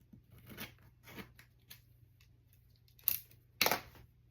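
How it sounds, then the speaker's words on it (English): An X-Acto blade slices through balsa wood dollhouse roof shingles in a few close, dry scraping strokes, separated by pauses over a faint steady hum, with two sharper cuts near the end. "Going to use your X-Acto blade, and you're just going to cut along that line."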